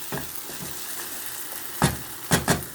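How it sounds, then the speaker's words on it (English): Ghanaian shito pepper sauce with dry crayfish and dry chili powder fries in a pot, a low steady sizzle broken by a few sharp bursts of spitting and stirring near the end. "So my shito is cooking. You can hear it making some noise, you know, with dry crayfish, dry chili powder"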